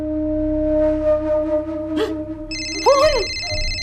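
A telephone rings with repeated electronic tones, loud and close, over a background drama score, then a brighter second ring pattern takes over near the end.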